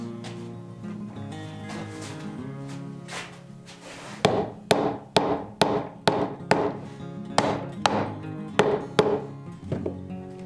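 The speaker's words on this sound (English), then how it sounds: "I had the mallet here." A mallet strikes the joint of a walnut log bench, about a dozen sharp, loud wooden blows in a steady rhythm, following a quieter opening stretch with sustained tonal sound.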